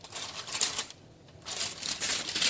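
Crisp rustling and crinkling of parchment paper being handled and cut with scissors in a home kitchen while making ratatouille, steady and close with a short quieter pause in the middle.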